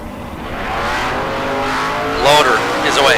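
A drag racing altered and a 1968 Camaro launch at a Sunday bracket race, their engines roaring steadily and swelling into louder bursts toward the end, under a talking announcer.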